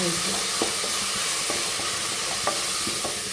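Onion frying in a pan for chicken curry, a steady close sizzle broken by regular scraping stirs of a spatula roughly every second, with no voices.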